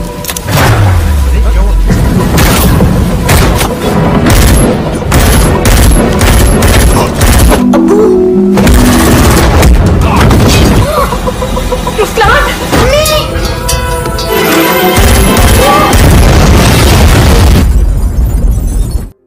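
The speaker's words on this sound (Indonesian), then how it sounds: "akhirnya baku tembak pun telah terjadi" A film shootout fills the track with loud bursts of gunfire and booming blasts at a terrorist suspect's house, sustained and dense throughout, mixed with other action sounds and voices.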